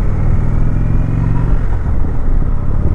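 Engine of a 2019 Indian Chieftain Dark Horse motorcycle rumbling steadily on the road during a ride, a loud, continuous low drone with slight throttle swells and no talk.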